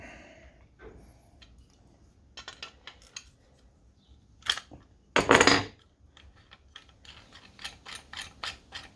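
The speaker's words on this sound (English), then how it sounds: "We just tighten it. Use a spanner if you want." A spanner tightens a fitting with scattered metallic clicks and ratcheting taps, a louder burst of scraping midway, all close and without talk.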